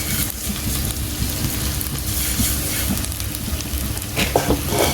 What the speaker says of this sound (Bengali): তো কতক্ষণ নেড়ে ছেড়ে এটাকে তেলের মধ্যে ভেজে নিলাম